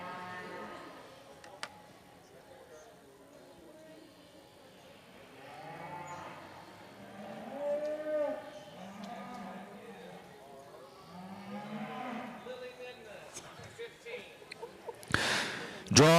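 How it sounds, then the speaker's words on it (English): Hereford cattle at a junior livestock show arena give repeated moos and lows at moderate distance, rising and falling over many seconds amid arena background noise, ending in a loud knock. "Charlie Kinder, with your Hereford, you may enter the arena"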